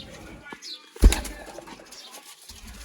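A sudden burst of wing flapping from Sialkoti pigeons, a close flurry lasting about a second, stands out against quiet background rustle, with possible soft cooing around it.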